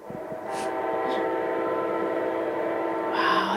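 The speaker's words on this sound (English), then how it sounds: "we might go out on the train whistle" A train horn sounds long and steady, close and loud, with a few faint higher chirps near the start and end.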